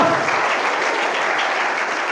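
An audience of schoolchildren at a school event claps in a loud, dense burst of applause that holds steady for about two seconds.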